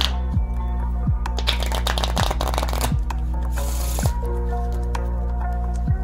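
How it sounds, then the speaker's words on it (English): Playing cards riffle and flutter in a quick burst, followed by lighter shuffling sounds over a steady low hum, close at hand. "So I give the cards a shuffle first."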